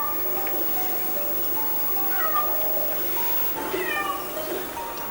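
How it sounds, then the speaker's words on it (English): A cat stuck behind something meows repeatedly, faint and muffled, with low background noise and occasional voices. "there's a cat stuck behind there"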